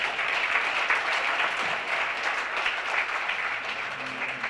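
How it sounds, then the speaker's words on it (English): Applause from the audience at a community trailblazers awards ceremony, a dense, steady clapping from a crowd that holds evenly throughout with no clear speech over it. "Give yourselves a big round of applause."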